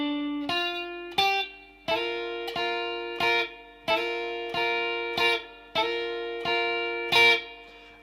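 Electric guitar plays a song's intro phrase slowly, with slightly distorted tone: two single notes, then a run of evenly spaced double-stop hits ringing out one after another, clear and alone.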